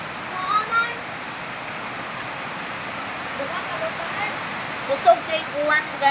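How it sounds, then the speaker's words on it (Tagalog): Heavy rain pours in a steady, dense hiss with a few people talking faintly over it. "Grabe ka kusog ang uwan."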